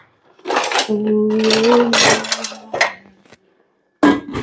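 Metal cooking pots (sufuria) clatter and ring as dishes are washed in a Kenyan home, in loud close bursts of knocking and scraping, with one pot giving off a sustained ringing tone.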